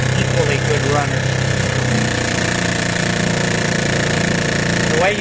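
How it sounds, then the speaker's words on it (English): A 1941 Evinrude Handitwin antique outboard motor running, a loud close rapid putter with a steady droning pulse throughout. "This is a real good running motor, and almost all of these Handitwins are equally good runners."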